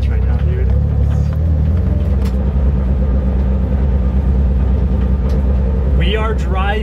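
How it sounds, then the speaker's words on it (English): Original Tokyo Drift Mitsubishi Evo on a test drive, its engine giving a steady loud low rumble throughout, with road noise and brief voices near the end. "We are driving the original Tokyo Drift Evo right now."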